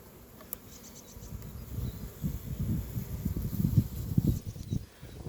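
A dense, steady drone of many honey bees buzzing close by in an open hive, swelling slightly in the middle, with no voices.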